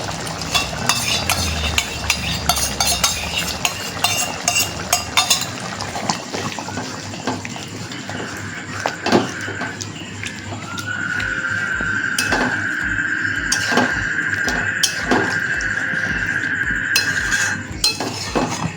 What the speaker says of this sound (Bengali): একটা ফুট হয়ে গেলেই আমরা এর মধ্যে টক দই মিশিয়ে নেব